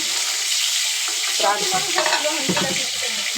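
Onions frying for pulao in a pan, a loud, steady sizzle that runs the whole time with stirring scrapes and clatter rising partway through, no voices.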